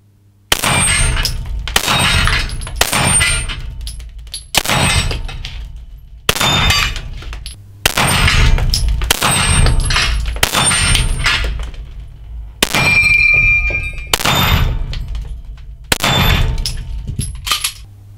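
Repeated pistol shots ring off a steel gong target at night, each sharp crack followed by a bright metallic clang that decays over a second or two, about a dozen impacts in uneven succession, loud and close.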